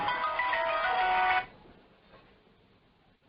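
A mobile phone ringtone plays loudly as a bright, steady electronic melody, then cuts off abruptly, leaving a quiet room.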